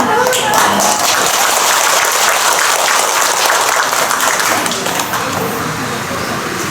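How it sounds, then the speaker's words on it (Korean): Temple congregation at a Buddhist dharma service bursts into dense, loud clapping that carries on steadily before tapering slightly, a voice faintly mixed in. "왜 박수를 치시는데?"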